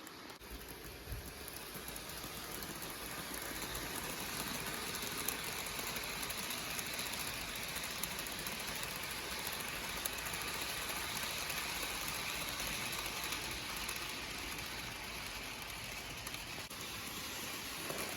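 Steady rattling, clicking mechanical noise of small model train locomotives running along track, continuous and fairly close with no pauses.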